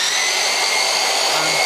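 Steady, loud whirring drone of a belt sander running close by, continuous and unbroken, with a faint low hum entering near the end.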